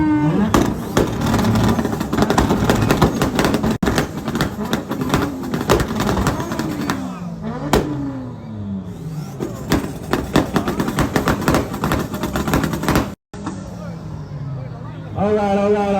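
Two cars, a Honda Civic and another street car, rev their engines together at a car meet, loud rising and falling engine roars with overlapping throttle blips and some crowd noise around them.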